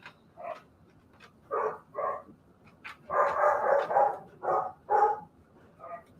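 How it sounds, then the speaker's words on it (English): A dog barks in a series of short, sharp yaps and bow-wows, about ten barks in irregular clusters, moderately close against a quiet background. "What's your brother barking about?"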